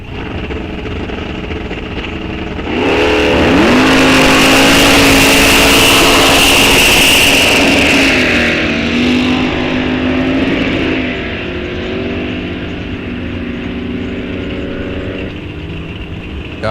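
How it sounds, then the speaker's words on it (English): Drag race cars roar at Rock Falls Raceway test and tune as a Dodge Dart and a Mustang launch into a pass, loud engines rising sharply, sustained for several seconds, then easing back to a rumbling drone. "Up next we have the Okina Missile Dodge Dart. Car number 128 running up against M566 in that Mustang."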